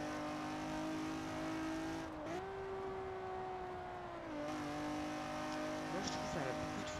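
Virtual engine note of a Ferrari 250 California in the racing game Forza Horizon 4, a steady sustained drone with a pitch that dips and recovers, heard close and continuous throughout.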